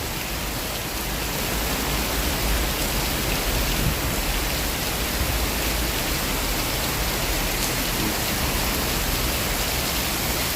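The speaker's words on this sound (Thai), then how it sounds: "ฝนกำลังมากพี่น้อง" Heavy rain in Thailand pours down in a dense, steady hiss at night, loud and unbroken from start to finish.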